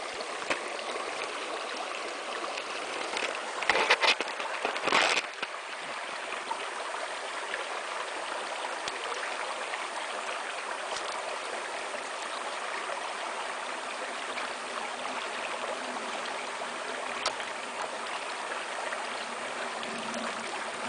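A river runs steadily over rocks in a wild setting, a constant broadband rushing close by, with a couple of brief splashy bursts early on and no voices.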